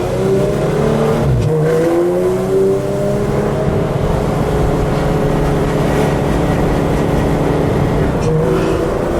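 A 2016 Porsche GT3 RS engine revs up and accelerates, its loud growl climbing in pitch, then easing and building again.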